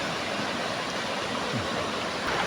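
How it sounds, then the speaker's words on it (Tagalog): Swollen river water rushes and roars in a steady, dense hiss close by, unbroken for the whole moment with no voices. "dyan talaga ako magdaan sa mga rumaragasang tubig na yan"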